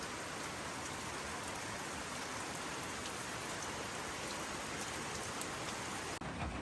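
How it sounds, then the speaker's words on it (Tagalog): Steady rain on a Monday morning, falling evenly on surfaces as a dense continuous patter that cuts off abruptly near the end. "Rainy Monday, everyone."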